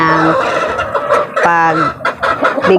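Chicks and other fowl peep and cluck loudly and close at feeding time, with a steady run of overlapping high calls and a few louder squawks.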